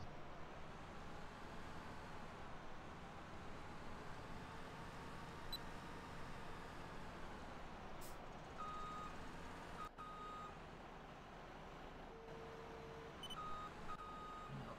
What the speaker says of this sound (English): Try to back that truck up all the way.